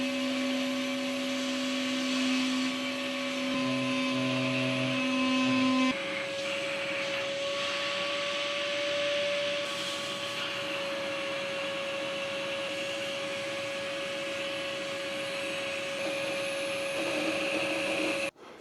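A hoover runs steadily during a full house rewire, a loud continuous motor whine with a shift in pitch around the middle, cutting off abruptly at the end, with no talking.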